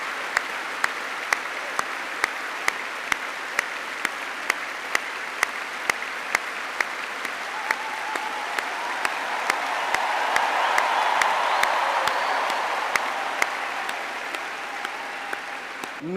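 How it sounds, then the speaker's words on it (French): A large crowd of young people at a World Youth Day 2022 gathering applauds loudly and steadily, sustained clapping that swells in the middle with cheering voices rising under it before easing off. "je vous demande d'acclamer Marie en l'applaudissant très fort."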